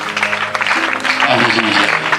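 A church congregation claps and cheers loudly nearby, a dense burst of applause mixed with voices calling out and a musical tone rising beneath.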